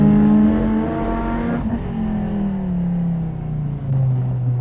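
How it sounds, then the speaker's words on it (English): A 520 wheel-horsepower hillclimb Subaru BRZ race car drones at high revs on a racetrack, shifts down, then its pitch slides steadily lower as it slows. "These cars are so deceiving with the noise they make"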